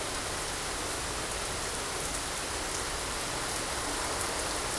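Rain in the X-Plane 12 flight simulator falls as a dense, steady hiss, even and unbroken throughout, with no voices.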